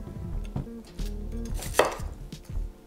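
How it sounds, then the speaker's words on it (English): Knife chopping cauliflower florets into bite-sized pieces on a cutting board, a string of close, sharp thuds in uneven rhythm with one brighter clack, no voices. "I'm chopping the larger florets into bite-sized florets."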